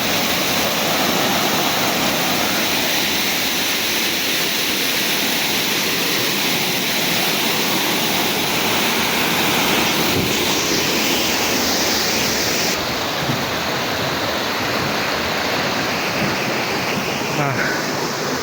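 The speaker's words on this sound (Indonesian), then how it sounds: "Cukup deras ya airnya." The Curug Lawe waterfall near Ungaran roars with heavy, rushing water: a loud, dense, unbroken wash of noise that stays constant and close throughout.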